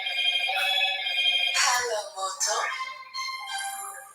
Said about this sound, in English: the phone rings right in the middle of this